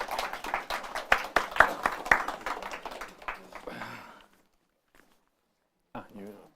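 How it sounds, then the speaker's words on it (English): Scattered applause for panelists at a law and tech talk event, irregular claps building over several seconds alongside background voices, then tapering into quiet with a brief murmur of talk near the end. "your round of applause will be required"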